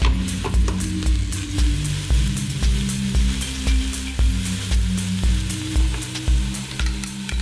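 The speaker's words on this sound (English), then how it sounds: "add it to the pan with the onions and garlic and stir for another 2 to 3 minutes" Chicken cubes fry in a pan with onions and garlic, a steady close sizzle under a low hum, punctuated by repeated scraping knocks as the mixture is stirred at a regular pace.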